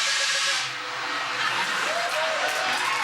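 A stage steam effect on a late-night TV talk show blasts as a loud, steady broad hiss that eases slightly and then carries on, with faint tonal squeals and crowd noise beneath.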